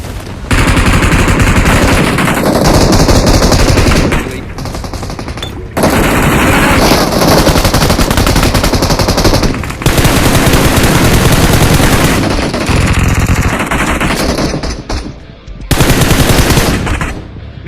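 Gunfire in the video game PUBG, with loud, sustained bursts of rapid automatic fire in several long runs broken by brief pauses, near and dominant.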